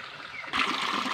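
Water rushes from a circulation pump outlet and skimmer into a tarpaulin fish pond, starting abruptly partway through and then flowing steadily and close.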